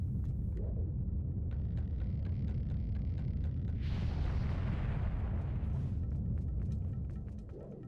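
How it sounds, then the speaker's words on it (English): Fire roaring across a burning bridge in Zelda: Wind Waker, a dense, steady rumble with a brighter crackling surge midway, loud and continuous before easing off at the end. "I set the bridge on fire."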